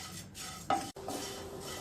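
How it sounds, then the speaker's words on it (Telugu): Dry poha (flattened rice) stirred and roasted on low flame in a pan on the stove, a soft continuous scraping and rustling with a brief louder clink near the middle, close and alone. "ముందుగా స్టవ్ మీద ప్యాన్ పెట్టుకొని అటుకులను వేసి వేయించుకోవాలి."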